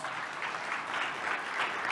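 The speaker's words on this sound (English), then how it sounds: "Can we give these guys a round of applause?" An audience at a business conference breaks into a round of applause, dense and steady throughout, moderately loud and close.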